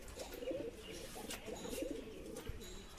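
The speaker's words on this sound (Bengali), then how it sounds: "দেশি গিরিবাজ পায়রা" Local Giribaz pigeons coo softly in a few low, rounded bursts, fairly faint with some background rustle and no talking.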